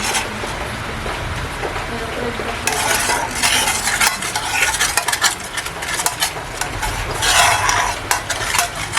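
A spoon mixes cake batter in a bowl with loud, continuous, close-up scraping and churning strokes that intensify partway through, heard without speech.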